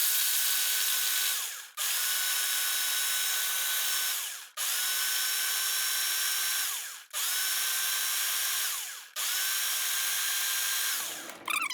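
Food processor mincing pistachios, loud whirring motor pulsed in five bursts of roughly two seconds each with brief pauses between, the nuts rattling inside the bowl, no voices.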